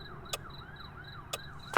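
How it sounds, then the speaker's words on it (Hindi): A wailing emergency siren in a tense night scene, its tone sweeping up and down steadily and fairly faint, with a few sharp bangs and one louder crack near the end. "सायरन की आवाजें नजदीक आ रही"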